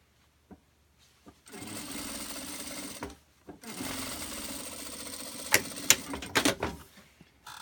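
Sewing machine stitching straight across the end of a fabric bag, running in two steady bursts of motor whir with brief pauses, followed by some handling clatter, close and fairly loud.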